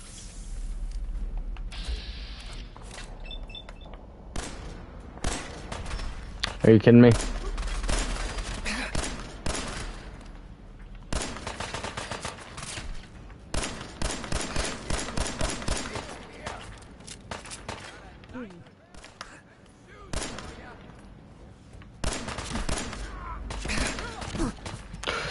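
Bursts of automatic gunfire in the game Fallout 4, repeated rattling volleys spread across a long stretch with brief pauses and thuds, while someone talks over the shooting.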